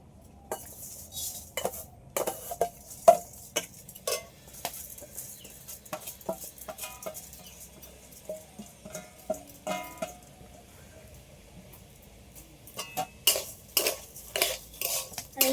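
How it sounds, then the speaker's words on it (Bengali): Gobindobhog rice stirred as it fries in a kadai, with sparse metallic scrapes and clinks of a spoon against the pan, close and intermittent against a quiet background. "চালটা একটু ভালো করে ভেজে নেব আগে"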